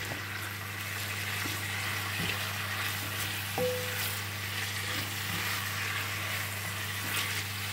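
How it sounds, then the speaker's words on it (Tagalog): Chopped tomato sizzles steadily in a hot pan, a continuous close frying hiss with a few soft stirring clatters, cooked as the base for Filipino sarciadong isda fish stew, with no voices. "Gisa-gisa."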